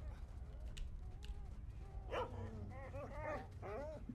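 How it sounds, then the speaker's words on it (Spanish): Mutant dogs in the S.T.A.L.K.E.R.: Shadow of Chernobyl video game give short barks and yips, then a run of whimpering, howl-like cries toward the end, over a low rumbling game background. "Perros mutantes."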